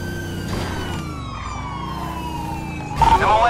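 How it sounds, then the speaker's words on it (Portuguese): Police siren wailing in the GTA 5 video game during a police chase, steady and loud throughout with rising pitch sweeps, growing busier and louder near the end. "Essa sirene da Rocan tá me deixando louco."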